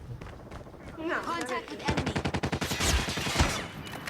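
Rapid bursts of gunfire from the mobile shooter Call of Duty Mobile, with sniper rifles in play, crackle loudly in a quick stuttering run of shots that overlap with a voice talking.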